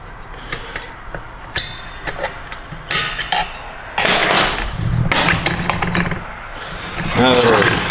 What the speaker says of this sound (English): Put our return spring retaining snap ring in there.